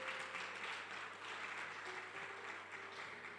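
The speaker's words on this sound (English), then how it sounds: "So clap for yourselves again." An audience at an education and skills development conference claps for itself: steady, faint applause at a distance, sustained across the whole stretch with no pauses.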